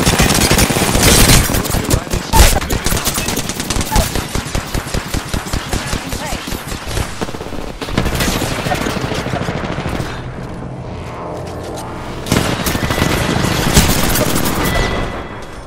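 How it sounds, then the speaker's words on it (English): Gunfire during a fight in Apex Legends: dense, rapid automatic bursts and single shots, loud and close, with short lulls between volleys and a voice speaking now and then. "Enemy on me. The enemy is moving in. Taking fire."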